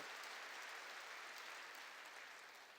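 Dense, steady applause from a large church congregation during a sermon, a continuous wash of clapping that holds level and then tapers slightly at the end.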